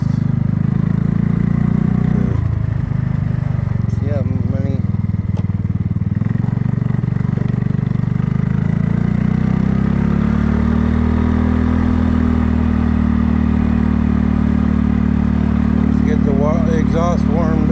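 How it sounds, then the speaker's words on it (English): A warmed-up Kymco scooter engine and exhaust runs steadily and loudly at close range, holding a continuous low drone throughout, with a few brief bursts of talk layered over it. "Exhaust warmed up on the kymco."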